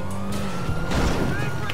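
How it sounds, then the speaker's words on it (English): Police car siren in Grand Theft Auto, a rising and falling wail over engine and traffic rumble, fairly loud and near, briefly swelling mid-way amid busy game sound. "You stupid police car."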